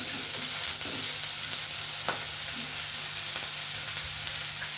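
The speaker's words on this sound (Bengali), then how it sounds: "মা একটু কপির ডাঁটাটা ভেজে নিই।" Cauliflower stems fry in hot oil for a vegetarian chochori, giving a steady, close hiss and crackle that never lets up, with a few clicks from stirring and no voices.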